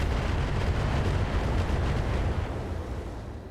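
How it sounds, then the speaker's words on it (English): Missiles launching and bursting in the mech combat game RogueTech, a BattleTech mod, form a dense, loud, continuous rumbling roar of overlapping blasts that tapers slightly toward the end. "So we're just going to fire the missiles."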